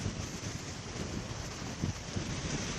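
Strong wind buffets the microphone on a blustery day at the sea in Waterville, Kerry, a steady low roar with gusty bumps and no voices.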